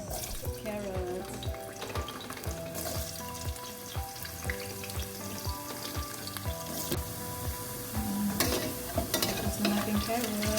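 Carrots stir-frying in a pan for Maqlooba, a steady sizzle with repeated scraping and clinking as a utensil stirs them against the metal, rising slightly louder toward the end.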